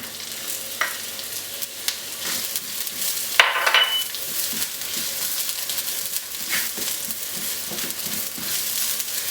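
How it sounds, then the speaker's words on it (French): Onions frying in a wok for a beef stir-fry, a soft steady sizzle with occasional stirring scrapes and a brief louder hiss, no voices over it. "En utilisant le même wok, je vais faire revenir les oignons."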